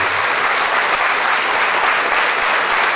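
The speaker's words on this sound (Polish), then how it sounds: "Tymi oklaskami podziękujmy" An audience at a lecture in Iława bursts into sustained applause, a dense, even wall of clapping heard up close with no pauses.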